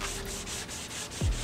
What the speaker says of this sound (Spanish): Acuérdate, mi tren de lijado no es tan complicado, 36, 80 y 180.